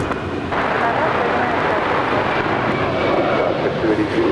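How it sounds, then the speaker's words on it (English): Copa Airlines Boeing 737 MAX 9 landing on runway 25 left at LAX, a loud, steady broadband jet roar that holds throughout with a rumbling low end, close and continuous. "Copa Airlines 737 MAX 9 coming in from Panama City to land on 25 left"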